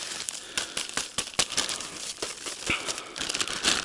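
A plastic packet of Dunaev feeder fishing groundbait is handled up close on a riverbank, crinkling and rustling continuously with sharp crackles throughout.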